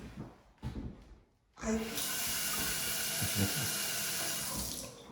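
A touchless faucet in a new concept home runs as hands are washed: a few faint handling noises, then a steady, close rush of water that continues to the end.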